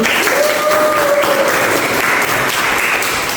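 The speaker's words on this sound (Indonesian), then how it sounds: "Tepuk tangan." Applause from a university music-lesson audience, loud continuous hand clapping close by, steady for a few seconds with a faint tone underneath.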